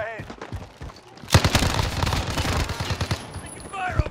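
Gunfire in a multiplayer shooter video game, a burst of rapid automatic shots that starts abruptly and rattles on for a couple of seconds, following a voice and with more voice chat near the end.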